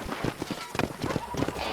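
Horse hooves clop in an uneven, fairly quiet rhythm in the Red Dead Redemption video game, with other game sounds mixed in around them.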